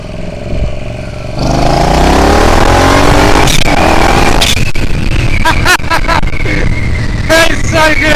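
A twin-turbo Triumph Bobber motorcycle accelerates hard on a highway. The engine roars loud and close, climbing in pitch through the gears, with wind buffeting and brief shifts breaking the rising note.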